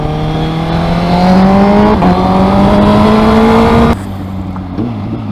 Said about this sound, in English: the exhaust is too loud